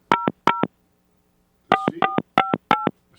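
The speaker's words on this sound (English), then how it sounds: "I'm gonna call Meg the Stylist." A phone number is dialed on a telephone as a run of loud, clean tone beeps: two, a pause, then five more in quick rhythm, with a faint hum underneath and no voices.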